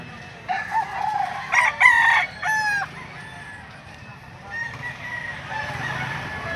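Roosters crow and chickens cluck among the fowl at the Lipa livestock auction market in Batangas, several loud crows rising in the first few seconds over a steady murmur of birds and market noise.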